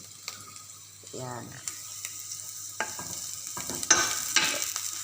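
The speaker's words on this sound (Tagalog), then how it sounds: "Nilagay ko na yung bawang at saka sili." Garlic and chili sizzle and crackle in a pan as they are stirred, the frying rising in scattered bursts and scraping strokes, with someone speaking briefly over it.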